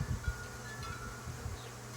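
Bees hum and buzz steadily around harvested honey, a low drone with a few louder passes close by, no voices.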